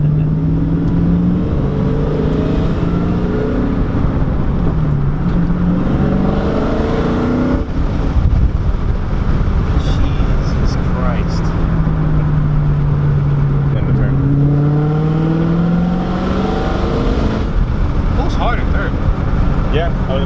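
A Dodge Hellcat with a six-speed manual gearbox pulls hard in third gear, its engine droning loud and steady with rising and falling pitch inside the cabin while people talk over it.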